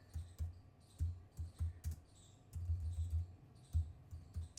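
Quiet clicking of keys on a computer keyboard, tapped in short irregular bursts and clusters with small pauses, close and soft, with no talking.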